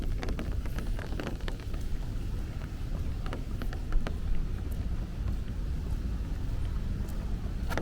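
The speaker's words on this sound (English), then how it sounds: "It is definitely raining a little harder." Rain falls on a walk through Bay Ridge, Brooklyn, a steady soft patter and hiss with low wind rumble and occasional sharper drips, continuous and fairly close.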